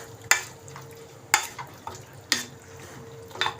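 Food is stirred in a cooking pan over a soft background sizzle, with four or five distinct scraping clanks of a utensil against the pan spaced about a second apart, close up and without voices.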